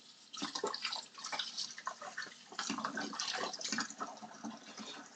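Running water splashes and trickles at a moderate level, a steady faucet-like flow with uneven spattering and no talk.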